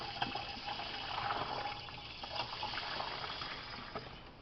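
Vinegar poured into a garden pest-spray mixture, a steady close gush of liquid streaming for several seconds, with no talking over it.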